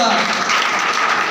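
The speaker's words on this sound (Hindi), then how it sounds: "एक बार जोरदार ताली होनी चाहिए, जोरदार" An audience at a motivational business gathering claps loudly in a dense, continuous burst of applause.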